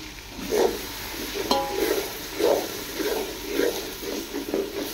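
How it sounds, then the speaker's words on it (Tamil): Vegetable biryani with chilli powder is stirred in a large pot, giving rhythmic scraping strokes about every half second over a soft background sizzle, close and moderately loud. "அது நல்லா கிளறி விடுமா"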